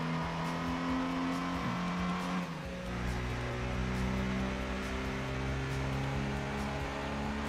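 A race car's engine drones and revs steadily in Gran Turismo 2, holding a strong continuous tone with a brief dip and gear change partway through, loud and close with no talking.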